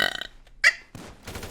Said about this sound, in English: I was burping.